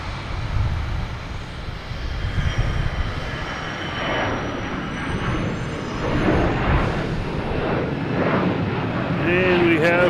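A Delta airliner departs Boston Logan for Orlando, its jet engines a loud, broad, steady roar that holds for the whole stretch with no break or lull.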